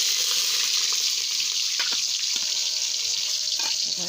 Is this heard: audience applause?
no